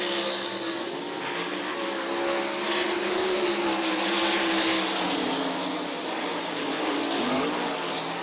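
Sprint cars roar around a raceway oval during a Sprint Invaders race, a loud, sustained engine drone that rises and falls as the pack sweeps past, with a faint tire squeal near the end.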